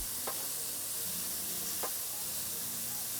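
Steady sizzle of breakfast food searing in a hot pan on high heat, a continuous hiss with two brief sharp crackles or pops.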